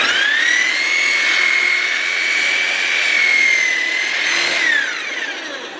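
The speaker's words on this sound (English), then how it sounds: "So with the polisher, I don't have anything attached to it here" A floor polisher with nothing attached runs on concrete during a repair of ruined epoxy, giving a loud, steady high whine that rises and holds, then falls away near the end.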